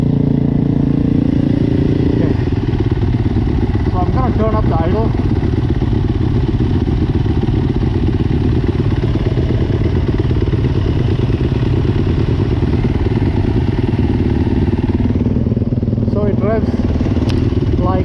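A Yamaha YZ250F or YZ250FX dirt bike idles nearby, a loud, steady, rough engine rumble that runs throughout while people talk over it now and then.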